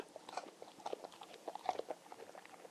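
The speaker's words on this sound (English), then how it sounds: "The beast quickly swallows the dried meat and fruit." A beast in the video game Quest for Glory II gulps down dried meat and fruit, giving a quiet run of wet, crunchy chewing and biting sounds in irregular bursts.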